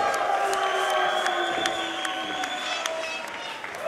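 A wrestling crowd at an All Pro Wrestling show applauds and cheers, with steady clapping and sharp percussive hits running under sustained tonal ringing and faint chatter.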